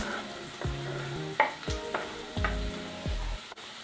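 Half a cup of chopped green beans sizzling as they hit a pan while cooking egg fried rice: a quiet frying hiss with scattered clinks and scraping of a utensil stirring.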